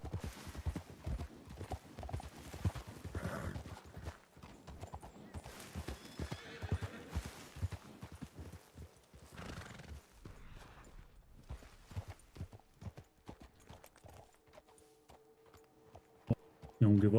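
Horses gallop in a Red Dead Redemption 2 roleplay game, with rapid clip-clopping hooves and occasional neighs, loud and layered, while voices talk over the action.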